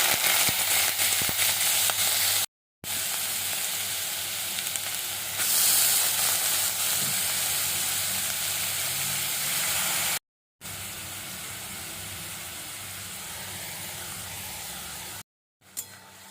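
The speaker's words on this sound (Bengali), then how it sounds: "এখন আমি কড়ায় দুটো শুকনো লঙ্কা দিয়ে থোড়গুলোকেও ভালো করে ভেজে নেব।" Banana stem fries with two dried red chillies in a wok, giving a loud steady sizzle and hiss with occasional stirring, broken by a few abrupt silent cuts.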